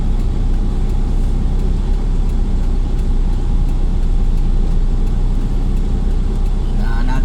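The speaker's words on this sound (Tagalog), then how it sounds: "Napakarami pang sasakyan dito. May motor, may truck, may SUV, plus yung mga jeepong harabas." Heavy traffic on a congested stretch of Quirino Highway, with motorbikes, trucks, SUVs and jeepneys producing a loud, constant low engine rumble close by, with passing vehicles blending into one drone.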